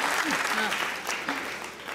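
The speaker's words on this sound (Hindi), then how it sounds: "तालियां होनी चाहिए" Studio audience applause on a Pakistani comedy talk show, a dense steady patter of clapping at moderate level with voices mixed in underneath throughout.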